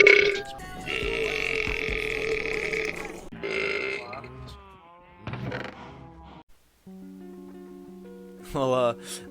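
A man burps loudly several times in a row, long rough croaks close up, with voices talking and reacting between the burps.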